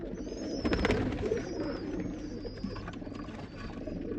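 Domestic fancy pigeons in a breeder's loft give low, soft cooing that runs throughout, with thin, high chirps from other birds drifting over the top; no one speaks.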